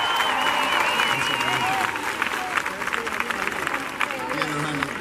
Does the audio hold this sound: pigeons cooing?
no